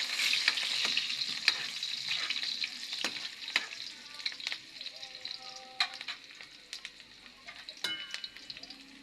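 Garlic and onion sautéing in a pan while mung beans are prepared for a Filipino ginisang monggo with katuray flowers, giving a steady sizzle broken by repeated clinks and scrapes of stirring, fairly close and moderately loud.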